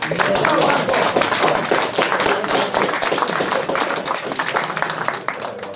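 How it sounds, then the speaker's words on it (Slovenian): Audience applause for a member of a men's chamber choir at a cultural society event: dense, steady clapping from a full hall, loud and sustained and thinning slightly at the end, with a few voices underneath. "En aplavz za njega."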